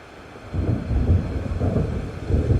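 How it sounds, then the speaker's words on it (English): Thunder rumbles in the video game Alan Wake as a storm approaches over open water, a low rolling roar that swells after a quieter opening and keeps growling steadily, with a faint hiss like wind or rain beneath it. "It seems there's a storm coming."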